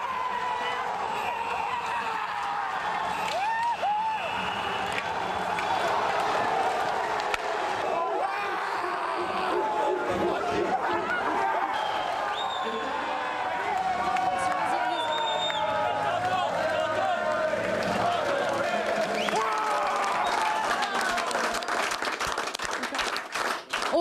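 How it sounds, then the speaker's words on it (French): A crowd applauding the Grenoble ice hockey champions, the Brûleurs de Loups, with sustained loud clapping and some cheering filling the whole stretch and people talking over it. "Chapeau vraiment les brûleurs de loups, on s'applaudit encore plus fort"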